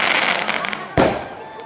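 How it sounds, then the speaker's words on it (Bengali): Firecrackers burst at a Bengali wedding as the groom arrives, one sharp loud crack standing out over a dense, crackling background, with people talking nearby. "বর পুরো বম ফাটিয়ে চলে এলো"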